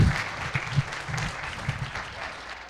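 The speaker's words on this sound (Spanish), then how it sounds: "un aplauso." A brief burst of audience clapping at a talk, moderately loud and somewhat uneven, with a few low thumps mixed into the crowd noise.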